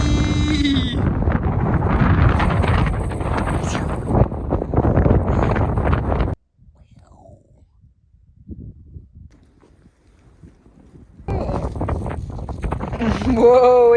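Strong wind buffeting the microphone in open desert country near Hanksville, Utah, loud and roaring for several seconds, dropping away briefly, then gusting back in hard at the end.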